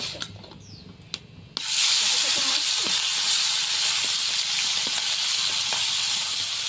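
Small fish drop into hot oil and set off a sudden loud, sizzling hiss that stays steady and sustained, after a few quiet kitchen clinks.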